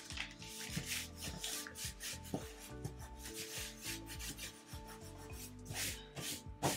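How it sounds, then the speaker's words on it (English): A small scraper tool rubbed firmly over Cricut vinyl, giving continuous close scraping and rubbing strokes with short pauses between passes. "So I'm just gonna run a little scraper tool here."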